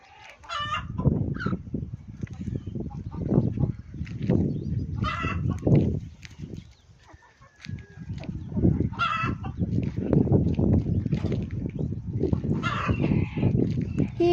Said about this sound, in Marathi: हे लहान लहान पिल्ले काही काही इकडे चरत आहेत आणि काही काही इकडे बसलेले आहेत